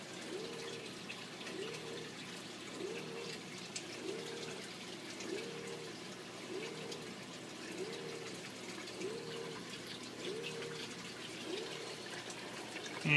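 An Ecotech wave maker pump running in its highest pulse mode drives aquarium water in steady, rhythmic surges, each swell of sloshing arriving about every half second over a constant watery hiss, with no voices.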